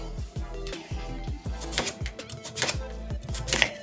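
A knife chops spicy vegan chorizo sausages into small cubes on a cutting board, with sharp, steady, close knocks repeating several times a second and no talk.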